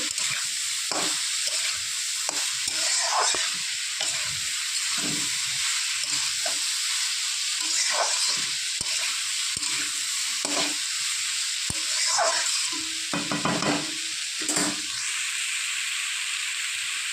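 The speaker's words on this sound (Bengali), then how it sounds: "এখানে উচ্ছে, ডিমা শাক, তারপর হচ্ছে নিম পাতা, কুমড়ো, বেগুন সব কিছুতে এই ভাজাটা আমরা ভাজি" Bitter gourd, gima greens, neem leaves, pumpkin and eggplant sizzle steadily in hot oil, with a constant frying hiss broken by repeated scraping stirs of a spatula, close and without speech.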